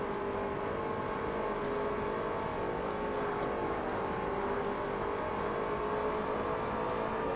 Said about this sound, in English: There is a car behind me.